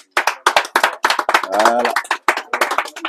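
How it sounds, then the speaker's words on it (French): On a guided visit to Gorée Island, a small group claps in short bursts after a sand painting demonstration, sparse uneven hand claps close by, with a person speaking over them. "si c'est joli, on applaudit"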